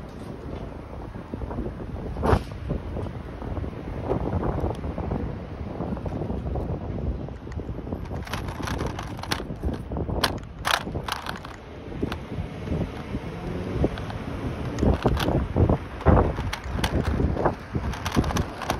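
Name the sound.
strong wind blowing on a scooter ride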